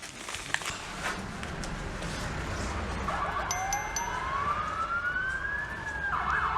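Fire engine sirens passing along a city street in Wrocław, a rising wail sweeping up over traffic noise, moderately distant and growing louder toward the end.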